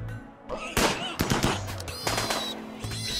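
Loud gunshots pop in quick, uneven bursts during a raid in the video game RimWorld, several sharp cracks close together over a steady low background hum.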